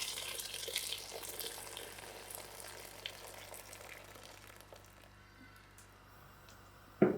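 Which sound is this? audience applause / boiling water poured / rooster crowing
boiling water poured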